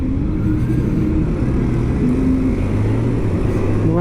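Motorcycle engine drone heard while riding, a steady close hum with slight pitch shifts and wind rush, continuous throughout with no talk.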